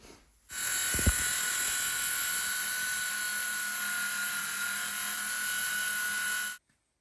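Power saw trimming the bottom of an interior door with a nearly new blade, the board clamped in place: a steady, loud high-pitched whine held for about six seconds, starting and stopping abruptly, with no talking.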